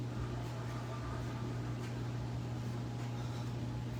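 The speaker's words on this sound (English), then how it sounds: "now you really hear my dryer or my washer spinning." A steady low mechanical hum with a faint whirring drone, like an appliance spinning in another room, quiet and continuous.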